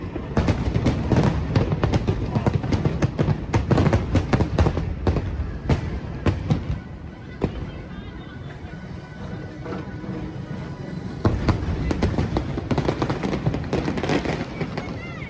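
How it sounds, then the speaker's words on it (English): Fireworks burst over Disney World at night in a dense, rapid volley of booms and crackles, loud at the start, easing midway, then picking up again, with faint crowd voices underneath. "had that amazing view of the fireworks"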